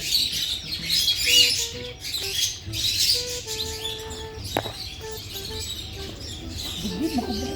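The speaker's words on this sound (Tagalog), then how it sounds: "May parrot dito." Outdoor scene at a park in Taif, Saudi Arabia, where a parrot and other birds give shrill squawks and chirps among tweeting and a few brief whistles, moderately close, with no voices.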